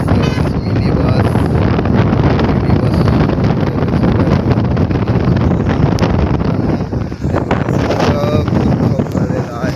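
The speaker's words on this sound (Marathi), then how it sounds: "हवा सुटलेली आहे" Strong wind roars continuously across the microphone at a harbour full of moored boats, a loud, dense, unbroken rush with gusty fluctuations throughout and no clear voices above it.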